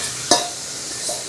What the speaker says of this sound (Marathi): आणि या ठिकाणी पनीर ढकललेलं आहे कढईत.